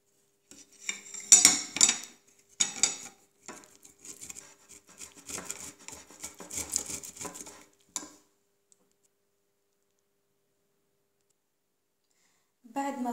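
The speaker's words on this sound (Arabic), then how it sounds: "هذه حبة الطماطم وراح نبشروها في هذه المبشرة" A ripe tomato is rubbed against a metal hand grater in short scraping bursts, close and crisp, in several strokes over about eight seconds before falling silent, with a brief noise at the very end.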